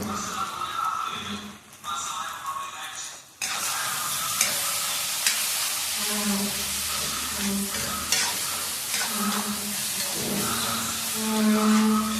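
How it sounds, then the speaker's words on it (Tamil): Salted curry base sautéed and stirred in a hot pan, with steady loud sizzling and scraping strokes close up, briefly cut out near the start before resuming continuously. "இப்பயே போட்டு வதக்கிறேன்."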